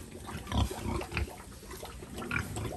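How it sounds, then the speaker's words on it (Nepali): A large pig on a farm in Nepal grunts and snuffles while eating, with low, irregular grunts close by over a constant background of farm noise. "कति ठुलो यो सुँगुर है"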